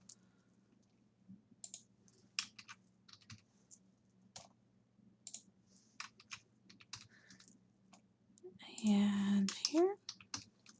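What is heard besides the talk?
typing text on a computer keyboard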